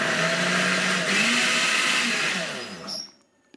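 A kitchen blender running at first then second speed, a loud steady whir that shifts pitch partway through and then winds down to silence near the end.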